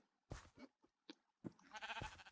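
Sheep in the Minecraft video game bleat several times in short, close, bursty calls, with brief quiet gaps between them and no talk over them.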